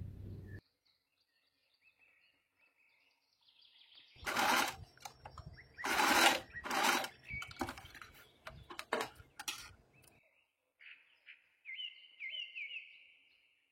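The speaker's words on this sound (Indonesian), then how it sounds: "lalu di sini dijahit lagi kayak tadi" A sewing machine stitches elastic into a dress in several short, loud bursts with brief pauses between them. Faint bird chirps sound in the quiet stretches before and after.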